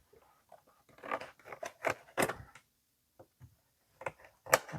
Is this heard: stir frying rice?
no